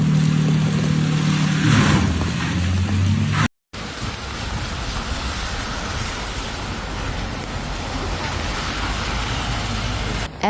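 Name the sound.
heavy rain during Brisbane flooding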